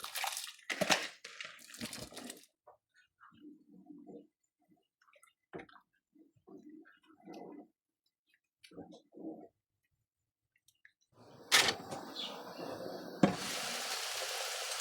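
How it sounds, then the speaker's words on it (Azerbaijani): Someone talks with short pauses, then a pot erupts in a loud, hissing bubbling and splashing of water that carries on steadily. "İndi isə qaynayan suya düyünü əlavə edirəm."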